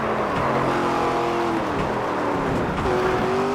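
Race car engine in the NASCAR 25 video game on a road course, a loud, close droning whine that rises and falls with gear changes as the car picks up speed, with no talk.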